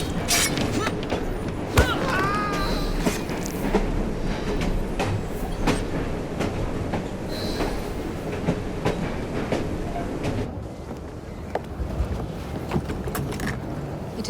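Train running in the video game Assassin's Creed Syndicate, a steady, dense rumble with rattling clatter throughout, a few sharp clanks and a brief squeal early on, loud and continuous.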